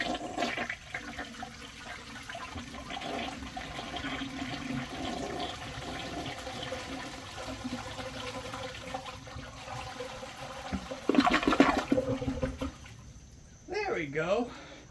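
A 1992 sixth-generation American Standard Cadet toilet flushes with a loud rush of swirling water that drains and gives way to refill trickling, with a voice heard briefly.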